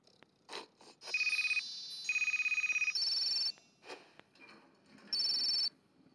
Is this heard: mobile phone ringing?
yes